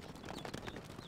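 Horse hooves clip-clop at a quick pace in the medieval strategy game Stronghold Crusader, during a desert mission, mixed in with other busy game sounds.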